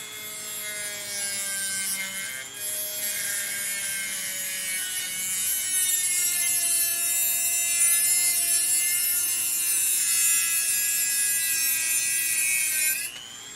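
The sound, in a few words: power tool trimming down a DartZone TomCat blaster part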